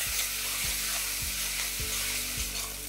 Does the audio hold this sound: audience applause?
no